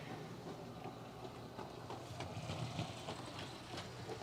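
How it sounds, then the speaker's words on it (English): A model trolley rolls around a toy train track with a faint, steady whir and light clicking from the wheels, quiet and continuous with no speech. "There goes the trolley."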